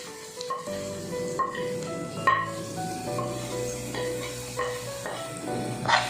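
Coriander powder being stirred into a duck curry (duck mappas) in a pan as it sizzles steadily, with occasional scrapes and clinks of the spoon over a continuous frying hiss.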